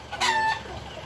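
A rooster crows once nearby, a short bright call over soft background clucking from chickens at a family home's yard.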